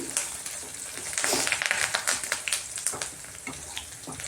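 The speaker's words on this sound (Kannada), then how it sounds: "ಇದು ಸ್ವಲ್ಪ ಚೆನ್ನಾಗಿ ಫ್ರೈ ಆಗಲಿ." Spices crackle and sizzle in hot oil for a raw mango rice dish, with small popping bursts and occasional stirring sounds close by.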